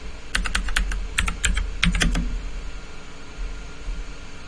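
AutoCAD commands being typed on a computer keyboard: two quick bursts of crisp, close key clicks over a steady background hiss, then the tapping stops and only the hiss remains.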